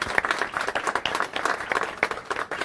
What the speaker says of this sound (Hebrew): תנו לה כפיים, תנו לה כפיים.